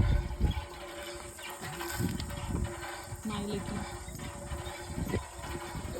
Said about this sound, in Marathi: बोरिंगवर चाललंय पाणी भरणं